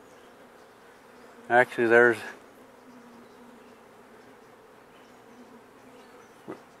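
Honeybees buzz steadily around an open hive frame during a split, a close, continuous drone with one brief spoken word near the start.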